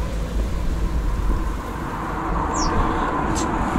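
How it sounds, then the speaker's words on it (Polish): Steady rain falling around a bus stop shelter beside a small convenience store on Poland's Baltic coast, a constant close hiss and patter with a couple of brief high chirps near the end, with no voices. "bo pada deszcz"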